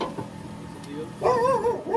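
A dog gives a short burst of whining, yelping barks, fairly close, after a moment of quieter sound.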